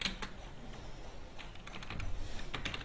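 Rapid typing on a computer keyboard while writing code, a steady close-up patter of key clicks running throughout.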